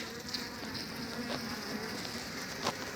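Honey bees buzz around an open hive frame with capped brood during a beekeeping inspection, a soft, continuous, diffuse hum with occasional louder passes of single bees close by.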